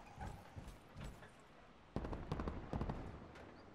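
Gunfire in Call of Duty: Black Ops 4, with scattered distant shots followed by louder rapid bursts of automatic fire that come nearer.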